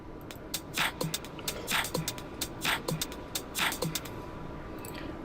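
A drum sample loop plays quietly, with a steady repeating pattern of crisp hits and thin, filtered percussive clicks, and no voices.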